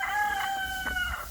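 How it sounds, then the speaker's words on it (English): A rooster crows at close range on a Saturday morning at a lakeside lodge in Nkhata Bay, Malawi, one drawn-out call with a clucking hen note after it, no talking. "there's chickens all around, and roosters, they start very early in the morning"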